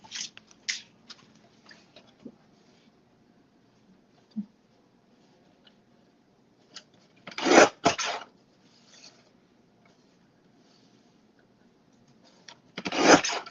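Scissors or a cutter slicing through stacked quilt fabric pieces, a few short sharp crisp cuts in brief clusters separated by quiet gaps and faint handling noises, close by.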